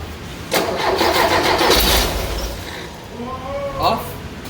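A Porsche 912e engine cranks and catches with a loud burst, runs roughly for a second or two, then fades; voices talk over it near the end.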